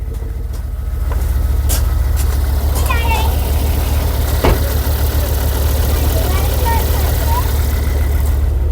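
A Ford Focus ST225 engine running badly, a loud, close, steady low rumble throughout with uneven roughness, while a person speaks over it and a few sharp knocks occur.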